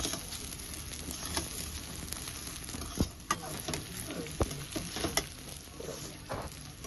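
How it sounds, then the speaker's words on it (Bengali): Pulao being stirred and mixed in a pan, with a soft sizzle underneath and intermittent scraping clacks of the spoon against the pan, moderately quiet and with no speech. "এবার আমি সুন্দর করে একটু মিশিয়ে দিচ্ছি।"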